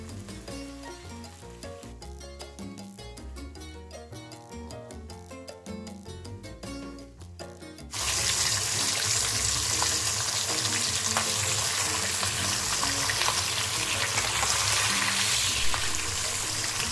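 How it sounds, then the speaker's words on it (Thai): Fish frying in hot oil while being stirred and nudged in the pan for a southern Thai dish; music plays at first, then a loud, steady close sizzle takes over and continues to the end. "เวลาทอดเราก็ต้องคอยเขี่ยปลาให้ขยับอยู่ตลอดเวลานะคะเพื่อนๆเเพราะว่าจะไหม้ง่ายมากค่ะ"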